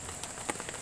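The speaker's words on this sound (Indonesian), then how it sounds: "Hujan." Rain falling at a riverside fishing camp in Indonesia during a heavy downpour, a steady hiss with faint scattered drop ticks, fairly quiet and with no voices.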